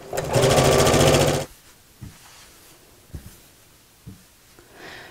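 Sewing machine stitching tote bag fabric in one loud, fast buzzing run of about a second and a half, followed by a few soft handling knocks and rustles.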